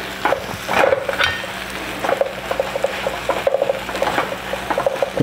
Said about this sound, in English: as you can see, the eggs are cooking away. I'm just going to turn them into scrambled